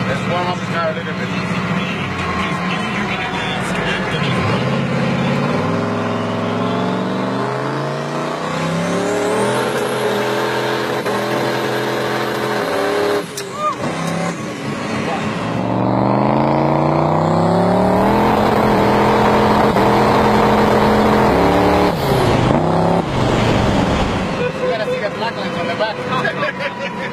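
Chevrolet truck engine revving during warm-up before a burnout, loud rising and falling revs in repeated sweeps, with people talking over it.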